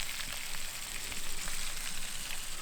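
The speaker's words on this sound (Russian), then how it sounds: "смотри, они жарятся и крепенькие, не разваливаются" Fish fry in a pan over a forest campfire beside a trout river, giving a dense, continuous sizzle and crackle at close range with no talk.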